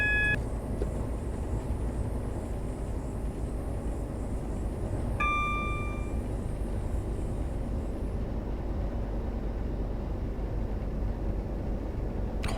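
A Class 166 DMU diesel train in Train Simulator 2019 rolling steadily as it slows, with a constant low engine and rail rumble, a few brief high cab tones, and no talk.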